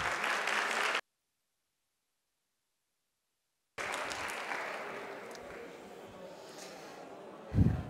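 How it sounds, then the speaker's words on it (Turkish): Applause from an audience at a doctoral research fair, broken by a gap of silence, then resuming as a softer, scattered patter with a thump near the end. "ben bütün katılımcı arkadaşlarımız için bir alkış rica ediyorum"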